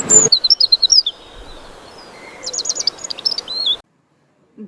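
A bird, portrayed as a nightingale, sings in bright rapid chirping phrases, first in a quick repeated burst, then quieter trills over a soft steady hiss, ending abruptly in silence.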